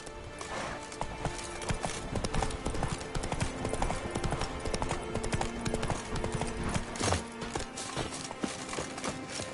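Roach, a horse in a video game, trots with steady clip-clop hoofbeats, loud and close throughout, with an occasional snort or whinny over a busy game soundscape.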